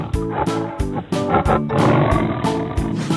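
A loud tiger roar from a children's cartoon about painting wild animals repeats in rhythmic pulses that sound like a sound effect set to a beat.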